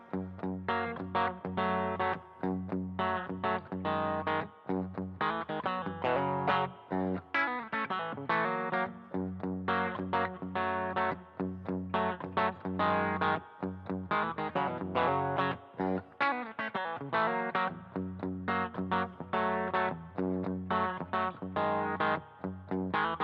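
Clean, twangy electric guitar bridge-pickup tone played through a Boss ME-90 multi-effects unit, steady strummed chords and picked notes filling the whole stretch, close and loud with no talking.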